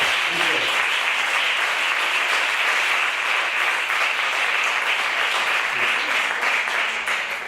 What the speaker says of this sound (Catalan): Ara sí, un fort aplaudiment per a ell.